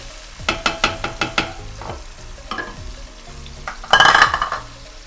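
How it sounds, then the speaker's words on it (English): Onion frying with shrimp in a pot for Nigerian native jollof rice, with a loud steady sizzle and a rapid series of scraping stir strokes, then a brief louder burst of crackle near the end. "So we fry this onion till it's golden brown"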